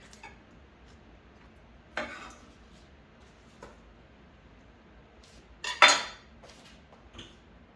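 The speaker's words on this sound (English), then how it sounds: "just take the whole garlic and dump it into the slow cooker" Whole garlic dropped into an empty slow cooker, a few sharp clattering knocks against the ceramic pot with one louder tumbling clunk near the end, close and otherwise quiet.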